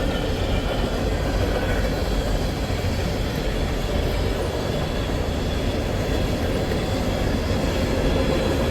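An empty coal train rumbles steadily past up close, loud continuous wheel roar and rattle with faint metallic squeal, no speech throughout.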